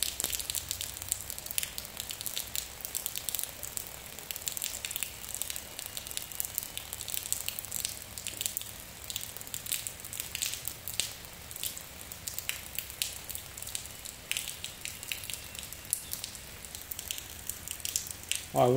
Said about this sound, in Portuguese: essa chuvinha fininha assim, molha bastante a terra